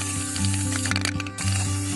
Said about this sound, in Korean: 바로 검정 스프레이로 이렇게 색을 입혀볼게요.